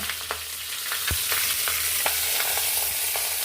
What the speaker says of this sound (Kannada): ಬಾಣಲೆಗೆ ತುಪ್ಪ ಹಾಕಿ ಇದನ್ನು ಬಾಡಿಸ್ಕೋಬೇಕು